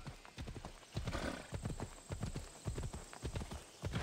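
Horse hooves and neighing from the video game Assassin's Creed Odyssey: a quick, rhythmic clip-clop of galloping hooves that runs throughout, with a horse's whinny mixed in.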